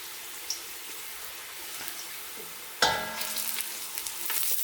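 Chopped onion and spring onion frying in a pan, a soft steady sizzle that bursts louder and brighter partway through as more ingredients hit the hot oil, with light stirring scrapes.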